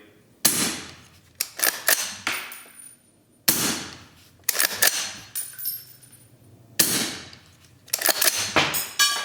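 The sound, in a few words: suppressed .308 rifle firing subsonic rounds, hitting steel targets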